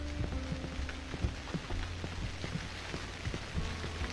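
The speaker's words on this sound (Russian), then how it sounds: "Дождик пошел." Steady rain falls in the horror video game Cry of Fear, a soft continuous patter with scattered drop impacts and a low rumbling bed beneath, fairly faint throughout.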